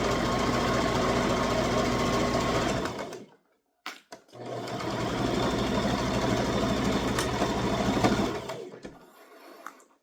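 A sewing machine stitches a toddler crossbody purse with a loud, fast, steady mechanical whir, stops briefly for a pause with a click or two, then runs again and slows to a softer finish.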